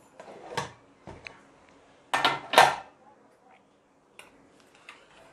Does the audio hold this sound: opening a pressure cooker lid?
yes